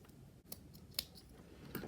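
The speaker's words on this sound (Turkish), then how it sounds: "sonra ipi keseceğim" Scissors snip through knitting yarn for a top-down cropped sweater, giving a few short, crisp cuts close by with quiet pauses between them and no talk.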